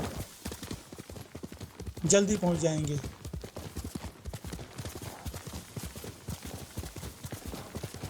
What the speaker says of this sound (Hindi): तो घोड़े से चलते हैं